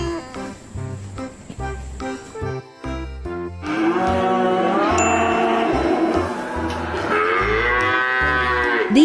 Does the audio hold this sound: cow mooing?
yes